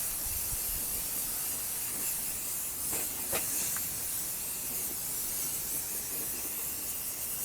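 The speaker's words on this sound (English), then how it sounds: "this back plate doesn't look too bad, but I'm just going to spray it anyway" Rust-freezing spray hisses from an aerosol can onto the back plate of a suit of medieval armour, a continuous loud hiss broken by a few short sharper bursts around the middle.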